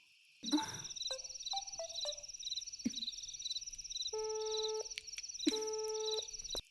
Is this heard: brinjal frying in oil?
no